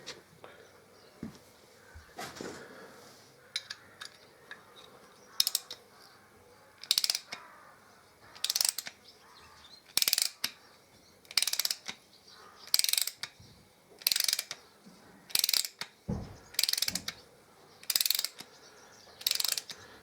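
A ratchet socket wrench turning a bolt on a 2005 Harley-Davidson Electra Glide engine during lifter replacement, a series of quick, close ratcheting bursts repeating at a steady rhythm, growing more regular toward the end.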